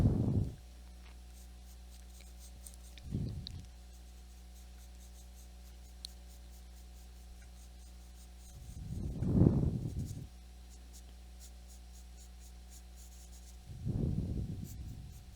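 A pencil shades a hand drawing in a few separate bursts of soft scratchy rubbing, each lasting about a second, with quiet pauses between them and the strokes close and gentle.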